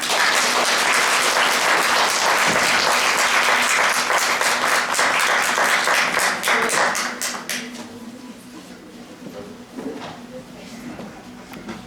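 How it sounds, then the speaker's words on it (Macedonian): Loud, dense audience applause at a single-parents association gathering, sustained for about seven seconds before fading into quieter room noise with a few scattered claps and murmuring voices. "ве молам еден силен аплауз"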